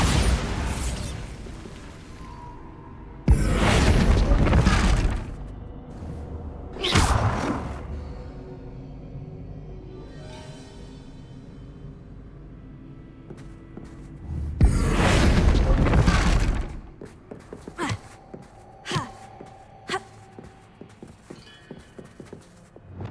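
A Bombarda blasting spell goes off in the Hogwarts Legacy video game with several loud, booming bursts, each swelling and rumbling for a second or two, separated by quieter stretches and followed by smaller thuds and clatter.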